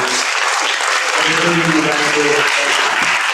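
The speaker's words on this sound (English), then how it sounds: "A big round of applause for our candidates and for guests." Audience applause at a town hall for police chief candidates in Bexley, a dense, steady clapping from a crowd filling the room with some voices mixed in.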